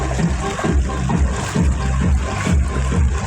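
Deep rainy-season floodwater in a neighborhood street splashes and swirls in repeated low surges, near and steady, like movement through the flooded road.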